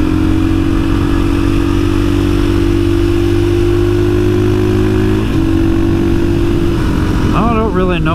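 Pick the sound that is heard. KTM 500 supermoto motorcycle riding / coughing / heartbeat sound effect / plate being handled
KTM 500 supermoto motorcycle riding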